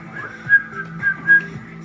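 A high, clear whistled melody floats over soft backing music in a K-pop song, a few bright sustained notes rising and falling.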